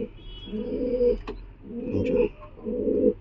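Giribaz pigeons coo in three low, rolling bursts about a second apart, close and fairly loud, with a little background noise between them.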